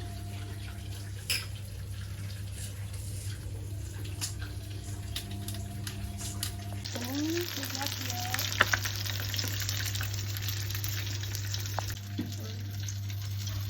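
Vegetables sizzling in hot cooking oil with garlic in a home kitchen, a steady close frying hiss with a low hum beneath, occasional stirring clinks, and a brief faint voice partway through.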